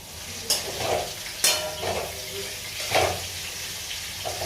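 Vegetable curry simmering in a pan over a very low flame, with soft stirring scrapes and gentle sizzling that rises in a few brief bursts against a steady quiet background.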